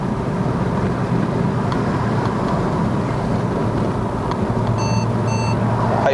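Several quick electronic warning beeps from the auto-braking sensor of a 2015 Mercedes-Benz A45 AMG sound near the end, over steady cabin road and engine rumble while climbing the mountain road to Genting, Malaysia.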